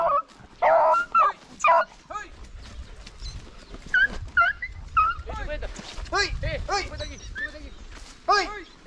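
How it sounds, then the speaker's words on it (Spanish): A pack of hunting dogs chases a rabbit, giving bursts of excited barks, yips and whimpering cries at close to mid range, with people shouting and talking in between. "Mira, ahí va a salir los perros, ¿no?"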